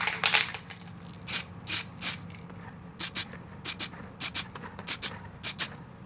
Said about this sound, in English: I need to first spray it white with this gloss white